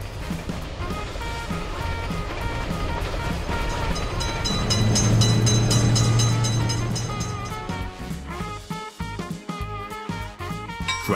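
A train rolls past a railroad crossing at close range, its rumble building to a loud peak in the middle with a steady low horn-like tone, then giving way to uneven clanking and rattling toward the end.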